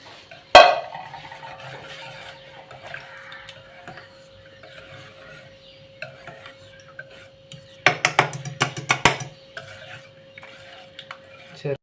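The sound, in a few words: stirring milk in a pot for aval milk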